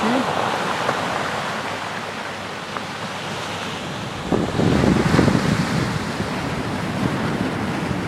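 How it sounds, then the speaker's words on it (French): Ocean sea wind blows steadily at sunset on a western coast, a broad rushing roar with gusts that swell louder midway, close to the microphone with buffeting wind noise and no talking. "C'est un vent de mer, le vent d'océan."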